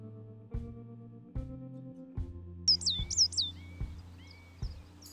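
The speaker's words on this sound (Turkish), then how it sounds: "baştan karasının ötüşü diğer kuşlara nazaran baskın olunca önceliği ona verdim" Great tits sing among other birds on the Haçkalı Baba highland near Trabzon: a short run of bright, clear chirped notes stands out over faint calls from other birds, with a low steady hum underneath.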